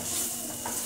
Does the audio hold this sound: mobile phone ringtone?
no